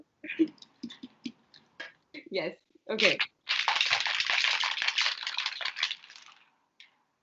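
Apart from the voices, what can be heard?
shaking a cocktail in a Starbucks glass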